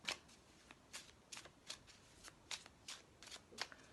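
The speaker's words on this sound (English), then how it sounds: "Okay, first I'll shuffle these ones up." Tarot cards are shuffled in a quiet room, giving a steady series of soft, crisp riffling bursts about every half second, close and faint, with no talking.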